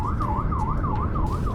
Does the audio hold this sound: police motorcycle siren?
yes